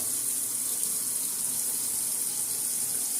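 Hot water runs steadily from a kitchen sink tap, a continuous hissing splash with no change in flow, close and alone without talk.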